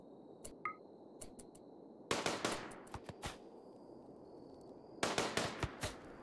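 Gunfire in the video game RimWorld: bursts of rapid, sharp shots in clusters separated by short gaps, some single cracks between, with a faint steady tone underneath and no talking.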